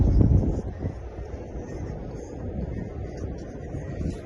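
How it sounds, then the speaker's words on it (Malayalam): Steady wind at Al Layyah Canal, Sharjah, UAE rumbles and buffets against the microphone, with a louder gust at the start, then settles into a continuous low rush. "ചെറിയൊരു തണുത്ത കാറ്റുണ്ട്"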